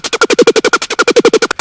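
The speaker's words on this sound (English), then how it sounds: "If I bring the unison level up," Synth bass in Ableton Live with the unison level turned up, a fast, steady pulsing stream of about sixteen evenly spaced buzzy notes, loud and close with no voice over it.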